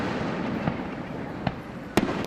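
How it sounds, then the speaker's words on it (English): Fireworks burst over the Sarasota Bayfront on the Fourth of July, with three or four distant booms spaced out above a steady wash of crowd and ambient noise, the last pop the sharpest. "Fireworks lit up the sky over the Sarasota Bayfront."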